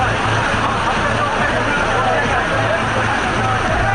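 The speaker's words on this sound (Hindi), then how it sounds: "पानी के प्रचंड वेग की आवाज सुनकर ही दिल दहल जाए।" Roaring rush of floodwater from monsoon flooding in northern India, a dense, steady broadband wash with low churning surges, loud and continuous throughout.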